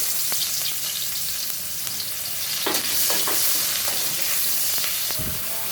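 Onions fry in a pan of oil just used for fish, a loud, close, steady sizzle with scattered pops and a few stirring scrapes.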